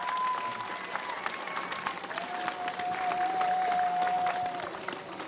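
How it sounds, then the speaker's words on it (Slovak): A crowd applauds steadily at the start of a charity cycling stage in Detva, sustained dense clapping from many people throughout, with a faint tone running beneath it. "Takže ešte raz obrovský potlesk."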